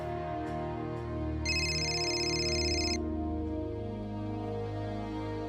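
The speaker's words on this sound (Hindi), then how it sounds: "अब किसका फोन आ गया?" A phone ringtone plays a bright, repeating melodic tone for a couple of seconds over a steady musical background.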